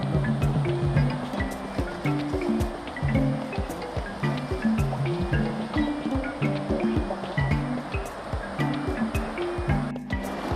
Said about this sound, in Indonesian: akhirnya kita sampai di pinggir sungai teman